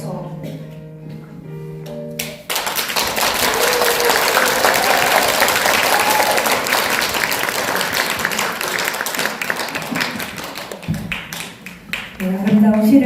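An audience applauds a poet after a poem reading at an awards ceremony and forum, a dense burst of clapping that swells, holds for several seconds and then tapers off, with brief talk before and after.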